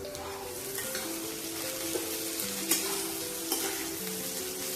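Ivy gourd pieces fry and soften in a kadai, giving a steady, close sizzle with light stirring scrapes over it, loud and even throughout, with no talking.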